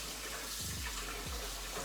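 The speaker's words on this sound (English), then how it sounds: "So the way to wash rice is you just keep running water over it." Cold tap water runs steadily over rice being rinsed in a sink, a continuous close splashing rush with brief swirling sounds.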